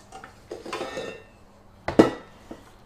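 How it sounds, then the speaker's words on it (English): A spatula scrapes vegan Madeira cake batter with butter down the sides of a mixing bowl, giving a few short scuffs and one sharper scrape near the middle, close and moderately loud with no talk. "So let's scrape that down, just to make sure we've got no loose butter at the bottom"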